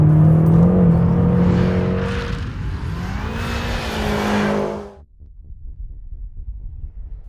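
A powerful BMW M6 or Mercedes SL63 AMG engine, over 500 horsepower, roars and revs hard, pitch climbing through gears, then cuts away abruptly to a quieter rumble.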